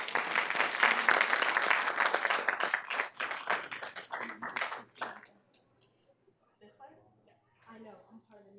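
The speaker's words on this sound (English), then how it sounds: "Give a round of applause." A school board meeting audience gives a dense, loud round of applause that thins out after a few seconds, then fades into scattered claps and murmuring voices.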